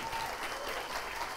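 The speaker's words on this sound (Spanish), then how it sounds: "Pido un fuerte aplauso para él." An audience at an evening talk honouring an archaeologist claps together in a steady, dense wash of applause, even and fairly loud throughout the short stretch, with no talking.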